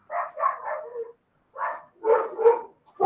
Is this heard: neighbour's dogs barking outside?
yes